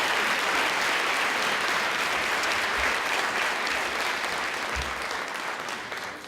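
A large audience at a university graduate hooding ceremony claps steadily and loudly for several seconds, the applause thinning slightly at the very end.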